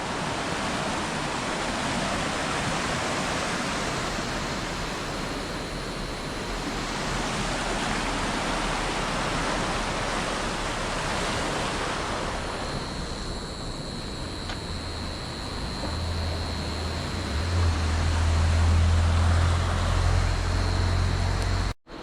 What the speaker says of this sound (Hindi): लेकिन बहाव पानी का बहुत ज़्यादा है।